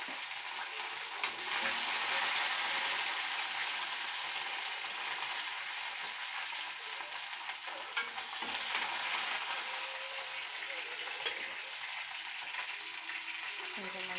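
Curry leaves and dried red chillies crackle and sizzle in hot tempering oil for Telugu pappu charu, making a steady close frying hiss with scattered pops and occasional stirring.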